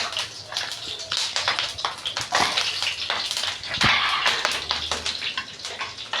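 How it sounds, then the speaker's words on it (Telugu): Green chillies sizzle and crackle in hot oil for an okra (bendakaya) chutney, a steady, fairly close frying hiss with scattered pops running throughout, and no voices. "ఇప్పుడు నూనె కాగింది, పచ్చిమిరకాయలు వేసుకుందాం"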